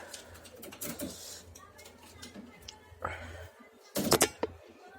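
Pigeons in a loft give soft, short cooing calls in scattered bursts, with one louder flurry near the end, while a person talks nearby.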